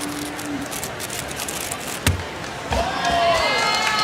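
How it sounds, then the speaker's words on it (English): A room of spectators at the Rubik's WCA World Championship 2025 reacts to a finished cube solve, a short burst of cheering and applause swelling late and carrying on under a commentator's ongoing talk. "some good crowd reaction here in the room"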